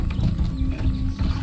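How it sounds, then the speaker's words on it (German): Horse hoof clops in the video game Far Cry 6 over a low rumbling bed, a quick uneven run of hits lasting just over a second, with no talking. "Oh, ein Pferd, auf."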